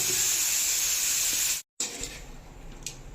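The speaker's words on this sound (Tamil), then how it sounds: "உப்பை போட்டு நல்லா வதக்கி விட்டுடலாம்" Vegetable and a pinch of salt sautéing in a pan for a Tamil-style chutney, giving a steady, fairly loud hiss that cuts out abruptly for a moment and then returns, quieter, with a faint clink.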